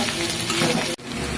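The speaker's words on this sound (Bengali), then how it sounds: "ঢাকনা ছাড়া ভাজা ভাজা করে তারপরে নামাবো" Bitter gourd (karela) sizzling in an uncovered pan, a dense, even frying hiss held close and fairly loud, with one very short dip near the end before it resumes.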